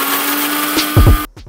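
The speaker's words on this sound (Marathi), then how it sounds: "हे सगळं आणि आता मी मिक्सर मधनं वाटून घेते." A kitchen mixer grinder whirs loudly, grinding garlic, ginger, curry leaves, green chili and coriander, with a brief motor surge and thumping pulses before it cuts off abruptly.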